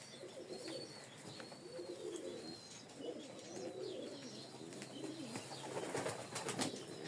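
Pigeons coo in soft, repeated low phrases after rain, with a few higher chirps and light fluttering mixed in, close by and steady over the whole stretch.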